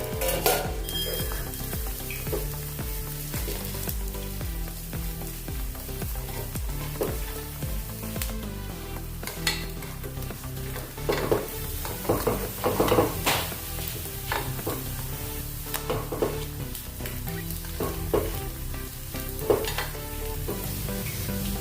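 A sabudana and potato snack fries in a pan, giving a steady crackling sizzle that runs throughout, broken by occasional sharper pops and clinks of stirring.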